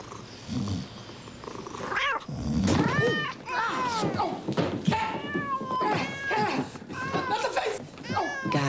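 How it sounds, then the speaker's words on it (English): Cat yowling and meowing wildly in a run of loud, repeated rising and falling cries over several seconds, with a voice and playful background noise mixed in. "Cat went nuts."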